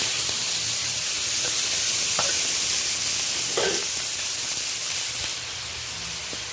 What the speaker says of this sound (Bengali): ফোড়নের সাথে পেঁয়াজ, কাঁচা লঙ্কা, টমেটো ভালো করে আমি নেড়ে নিচ্ছি